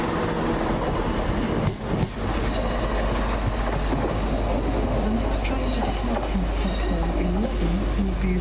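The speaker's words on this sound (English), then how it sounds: "I think there's a train due out shortly" A train rumbles loudly and continuously close by at Edinburgh station, wheels clattering with occasional squeals as it pulls away.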